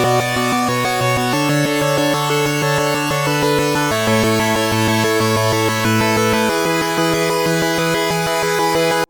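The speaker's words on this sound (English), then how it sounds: "our second supersaw sounds like this." Detuned supersaw synth patch built from white noise and tri-saw oscillators, unprocessed: a loud, bright, dense sustained chord that steps through several changes over nine seconds, with no voices.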